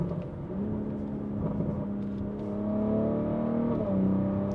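A BMW B58 straight-six with a DCE downpipe, non-resonated mid-pipe and MHD Stage 2 tune drones under load, its pitch climbing steadily with a slight shift near the end, heard from inside the car without talk.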